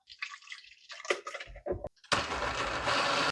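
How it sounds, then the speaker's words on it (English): A blender purees soft cooked apples, starting with loud broadband whirring after scattered clinks and bumps, then running steadily and close. "we're going to throw them into a blender and puree them up"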